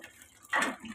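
A faucet is turned on at a laundry area, sending a short burst of running water that swells suddenly midway and then eases to a softer flow, fairly faint and close by with no talk over it.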